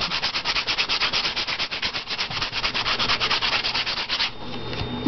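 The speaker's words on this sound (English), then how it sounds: "some fine sanding here" Steady, rhythmic fine sanding of a gesso-coated canvas with quick back-and-forth rubbing strokes, close and loud, easing into a softer scratch near the end.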